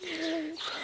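A brief bird call, a short cooing note with a higher chirp after it, heard close against soft background noise.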